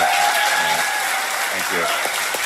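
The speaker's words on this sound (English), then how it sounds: "Merits a round of applause, ladies and gentlemen." Audience applause at a Baldur's Gate 3 release showcase panel, a steady wash of clapping filling the hall from start to finish, with a voice speaking over it.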